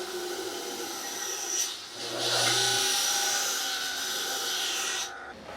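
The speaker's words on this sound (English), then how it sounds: "you're just listening to me shave down this string winder on the disc sander" A disc sander grinds down a guitar string winder, a close, raspy rubbing hiss that swells for a few seconds and then drops away.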